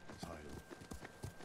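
Horse hooves clip-clop in the samurai video game Ghost of Tsushima as the player's horse is called in, giving a steady trotting patter of faint thuds under a voice talking over it.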